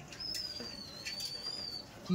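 Chini Kaldom pigeons giving soft, low coos close by, a brief thin whistle above them and a person speaking nearby.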